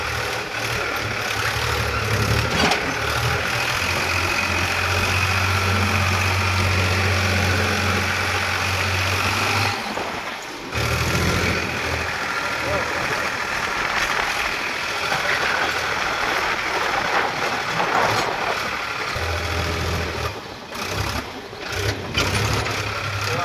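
A tractor pulling a cultivator runs steadily with a heavy, throbbing engine drone that holds for a long stretch, briefly dipping before chugging on.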